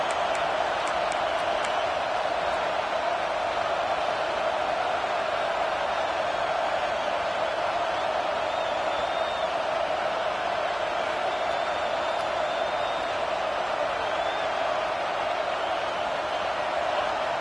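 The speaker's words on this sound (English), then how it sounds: "this crowd is making it miserable on this offense." Stadium crowd roaring in a football video game, a dense, steady wash of massed voices at high volume throughout, with no distinct breaks.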